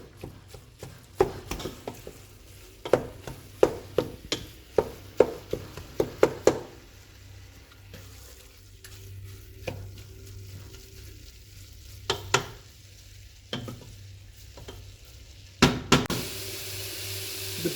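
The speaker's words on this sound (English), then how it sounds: "Make sure the heat is on high and the pan is really hot, so we brown the meat." Ground beef browning in a very hot pan over high heat, a steady sizzle and fry noise broken by repeated sharp scrapes and knocks of a utensil stirring the meat, close and fairly loud.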